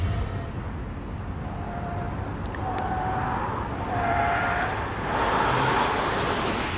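A car in a police driver training exercise swerves sharply around a barricade on a course, tires giving short rising squeals over a steady, moderately loud engine and road rumble.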